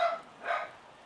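A pet dog barks twice in quick succession, sharp, fairly faint barks indoors with no talking.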